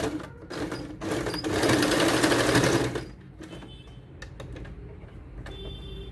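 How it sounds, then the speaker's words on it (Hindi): Sewing machine stitching a kurti sleeve, its motor whirring in a steady close burst for about two seconds, then stopping, followed by quieter handling clicks and rustling of fabric, with no speech. "मैं यहाँ तक इस पे एक सिलाई लगा लूँगी।"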